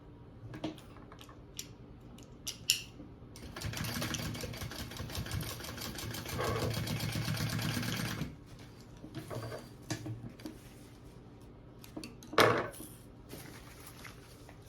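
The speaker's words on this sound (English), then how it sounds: "I'm going to sew that at the full seam allowance now" A sewing machine stitches a bag lining seam at full seam allowance, a rapid rattling whir lasting about four seconds, with soft handling clicks and fabric rustling before and after.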